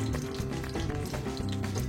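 Onions fry with garam masala in a pan, a close, steady sizzle with soft stirring scrapes and no talk.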